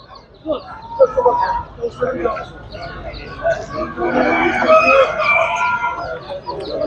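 Chickens clucking and roosters crowing at a busy poultry market in Tuzla, with overlapping bird calls building to a dense chorus near the end, under steady market chatter.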